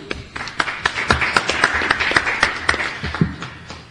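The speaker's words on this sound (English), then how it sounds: "Nice round of applause for Richard." Scattered clapping from a small crowd, steady and moderately loud, with no voices over it.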